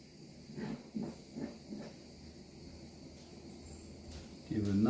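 A small blue blowtorch flame caramelizes the sugar on a creme brulee, making a soft, steady hiss close by that runs under a person talking.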